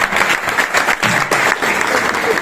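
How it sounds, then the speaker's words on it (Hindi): A seminar audience in Rohtak breaks into loud, sustained applause, dense clapping filling the whole stretch with no pause. "एक बार उनके लिए जोरदार तालियां बजाओ"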